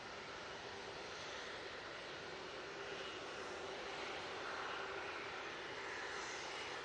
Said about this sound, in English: Singapore Airlines A350-900 now touching down